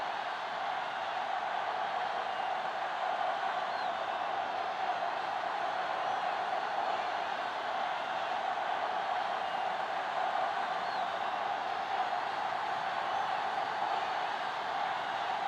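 A stadium crowd in the video game Madden NFL 07 on PS2, Seahawks against Raiders, keeps up a steady, even roar of cheering throughout, continuous and moderately loud with no distinct peaks.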